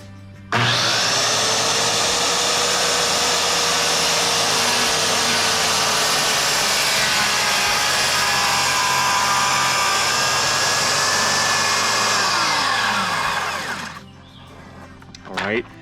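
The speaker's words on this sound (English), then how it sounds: "I'm gonna start the saw up, and I'm gonna lower the saw down really slowly, and then come out and finish the cut" A power saw starts up and whines at a steady, loud pitch while being lowered slowly into reclaimed lumber for a plunge cut, then winds down near the end, followed by a brief clatter.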